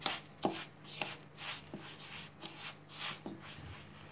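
Semolina dough being mixed with salt by hand, heard as soft, irregular gritty rubs and light taps repeating every half second or so, close and fairly quiet with no talking.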